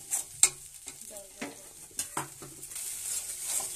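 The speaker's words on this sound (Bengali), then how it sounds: "এবার একটু সর্ষে বাটা দিয়ে ভালো করে কষে" Mustard paste being stirred and fried in a pan, with soft sizzling under intermittent scrapes and clinks of a utensil against the pan, fairly quiet and close.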